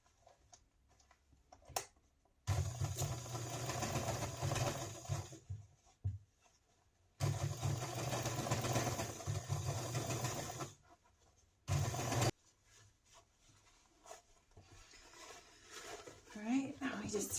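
A sewing machine stitches fabric lining pieces together for a homemade fanny pack, running in three loud steady bursts of a few seconds each, with quiet pauses and handling noise in between.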